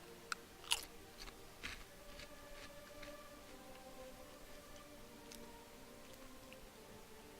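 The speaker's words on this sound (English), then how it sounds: "I might be eating a little bit of crunchy chips." Someone eats crunchy chips close to the mic, with a few sharp crunches early on, then quieter intermittent chewing over a faint background hum.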